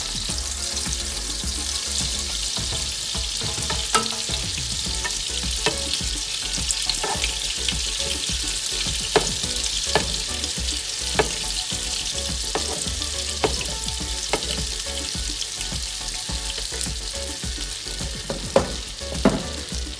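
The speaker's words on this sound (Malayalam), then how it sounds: "ഓയിൽ ചൂടായി കഴിയുമ്പം 3 ടേബിൾ സ്പൂൺ ബട്ടറും കൂടെ അതിനകത്തോട്ട് ആഡ് ചെയ്യുക. അതൊന്ന് മെൽറ്റ് ആകട്ടെ." Three tablespoons of butter melting into hot oil in a pan, a dense steady sizzle and crackle with scattered pops, close and unbroken throughout, no voices.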